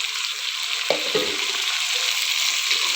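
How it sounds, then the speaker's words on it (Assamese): Potatoes frying with meat in a pan, a steady bright sizzle with a couple of short stirring scrapes near the start. "আলু দিয়া হ'ল, অকণমান ভালকৈ ভাজি লওঁ।"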